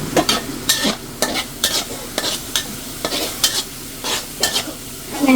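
Pork frying in oil in a home kitchen until golden brown, crackling sizzle punctuated by a regular rhythm of spatula scrapes and stirs against the pan, close and fairly loud, no talk.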